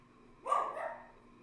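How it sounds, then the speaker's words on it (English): A single bark from a small 14-pound dog named Shadow, sharp and fairly faint, ringing out briefly indoors against a quiet background. "She has such a big bark."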